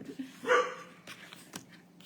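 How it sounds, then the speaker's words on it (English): A shop dog barks indoors: one sharp, fairly close bark, then a few quieter yips and barks, with no talking over them. "Oh, sorry, that's our shop dog."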